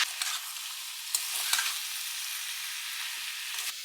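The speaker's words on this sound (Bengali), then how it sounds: "আর একটু ব্ল্যাক পেপার পাউডার অ্যাড করে একটু নাড়াচাড়া করে নিয়ে প্রেশার কুক করবো।" Fried vegetables with tomato and black pepper powder sizzle steadily in a pan while being stirred, a close hissing fry with a few scraping strokes and no voices.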